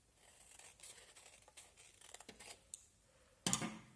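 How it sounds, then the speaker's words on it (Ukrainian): Soft snipping and crinkling of paper being cut into small squares with scissors, a series of quiet irregular cuts ending in a louder rustle. "з допомогою ножиць нам треба вирізати два квадратики по краях"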